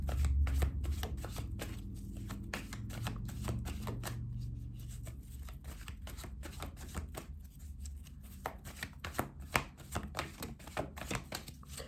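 A deck of oracle cards being shuffled by hand, a steady run of soft riffling clicks and flutters, close and fairly loud, continuing for about twelve seconds with no talk.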